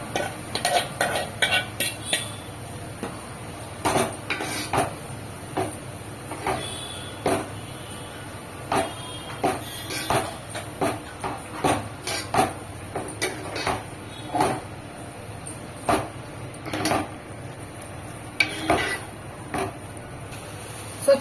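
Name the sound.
mixing gongura paste in a cooking pot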